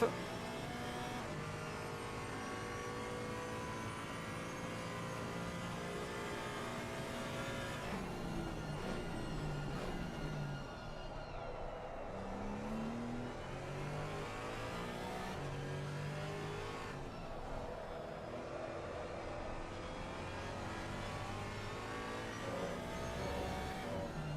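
A Porsche race car engine runs loud and continuous at the start of a lap, revving hard with rising and falling pitch through gear changes.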